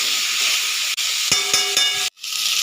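Pumpkin pieces hiss and sizzle steadily in hot mustard oil, with a few soft clatters and a brief break near the end.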